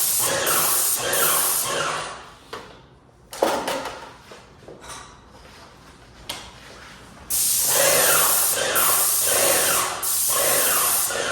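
Loud, steady hissing spray from an airless paint sprayer bursts on and off against a wall, with quieter clattering and handling noises in the gaps before a long continuous spray.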